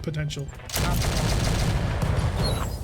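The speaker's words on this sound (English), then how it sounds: "Run that gun to its full potential." Mech cannon in a BattleTech video game firing at full rate, a dense rapid burst of loud gunfire booming steadily after a short spoken lead-in.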